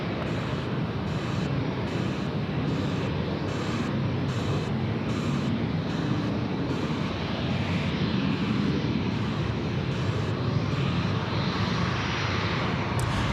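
A Velocity Boeing 737-800 taxis along taxiway Charlie at Sydney Airport, its engines giving a steady, moderate idle rumble and whine at ground level with a faint rhythmic pulsing on top.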